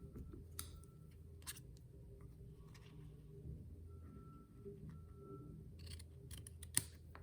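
Scissors snipping off the end of a piece of card stock while making an autumn sympathy card, a few faint, quiet cuts in a near-silent room.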